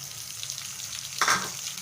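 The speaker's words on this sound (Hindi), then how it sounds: "और इन्हें भी हल्का सा फ्राई करेंगे।" Chopped garlic and masala-stuffed green chilies fry in hot oil for a dal tadka, giving a steady soft sizzle with a brief louder crackle near the middle as they are stirred.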